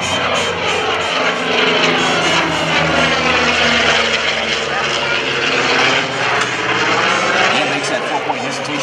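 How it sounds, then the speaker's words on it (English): An F4U Corsair's R-2800 radial engine roars loud and steady during an airshow roll, its sweeping pitch changing as the fighter passes, while a voice talks faintly underneath. "listen to the sound of that R2800 as Dan pulls the nose up and gives a roll"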